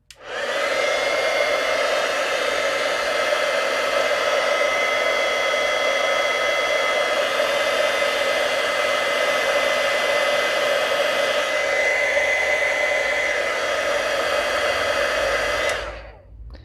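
A heat tool blows steadily for about fifteen seconds while heat-setting embossing powder on thin vellum paper, a loud, even whooshing hiss that starts and stops cleanly.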